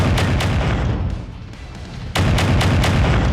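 Mech weapons in MechWarrior 5: Mercenaries firing at an Orion, heard as a loud rapid series of heavy booming shots that pause briefly and then resume.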